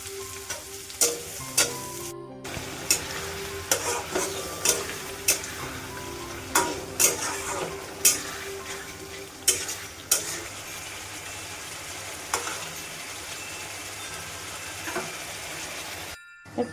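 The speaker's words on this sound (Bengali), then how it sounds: "মাছগুলো তো পেঁয়াজটাও আলুর সঙ্গে ভাজা হচ্ছে বেশ ভালোভাবে।" Fish pieces fry with onion and potato in a pan, giving a steady close sizzle punctuated by regular spatula clicks and scrapes about every second, with no voices.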